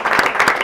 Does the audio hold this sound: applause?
yes